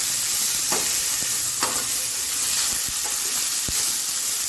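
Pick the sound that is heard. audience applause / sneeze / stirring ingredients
stirring ingredients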